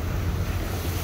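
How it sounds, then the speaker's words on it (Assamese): Rushing water from waterfalls and streams at Milford Sound, a steady broadband roar with low rumble and wind noise, continuous and fairly close throughout. "নিজৰা জুৰি ৱাটাৰফলছ"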